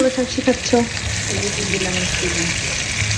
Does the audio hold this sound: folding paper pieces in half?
no